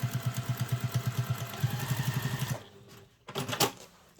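A sewing machine stitching a seam on a fabric travel satchel runs with a fast, even needle rhythm for about two and a half seconds, then stops, followed by brief handling rustles.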